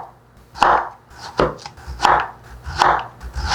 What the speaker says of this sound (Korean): 이건 이제 요리 초보들을 위해서 채 쓰는 걸 보여드리는 거예요.